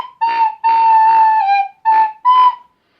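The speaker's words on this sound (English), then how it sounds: "maybe not the duck whistle" A duck whistle blown in four separate reedy, tonal calls: two longer blasts followed by two short ones, loud and close with no other sound.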